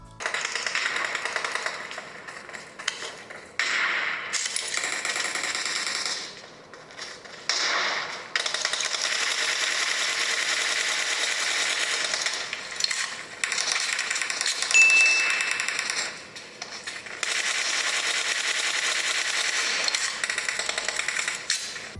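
PUBG Mobile gameplay on a Realme Narzo 10A phone at high graphics settings, with steady dense game audio and repeated sharp gunfire bursts broken by short quiet gaps.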